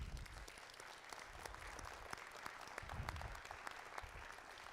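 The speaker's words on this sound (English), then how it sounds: "let's give the judges a round of applause" Crowd at a youth robotics competition qualifier applauding the judges, a steady, fairly distant wash of clapping with scattered sharper claps, fairly faint overall.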